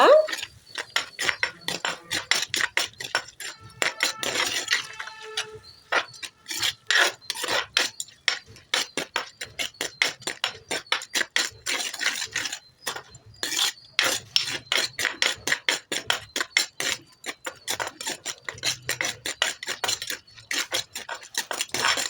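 Repeated scraping and rasping of a utensil against a pan while stirring onions frying over low heat, a rhythmic stirring sound continuing steadily with small metallic clinks.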